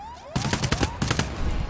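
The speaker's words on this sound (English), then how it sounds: "Start shooting him." A short, dense burst of rapid gunfire rattles out in two close volleys during a GTFO co-op match, loud and near, over a faint whistling electronic tone.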